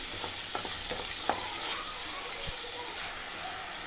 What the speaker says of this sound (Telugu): ఈ టమాటాలను కూడా కలుపుకొని బాగా మగ్గేంత వరకు కుక్ చేసుకోవాలి